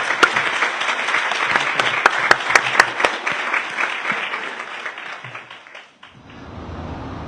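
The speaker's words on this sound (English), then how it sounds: "Could we give him a round of applause for being here?" An audience of students at a community college Earth Day event gives a visiting speaker a lively round of applause. Close, crisp claps build into a dense patter, then thin out and stop after about six seconds.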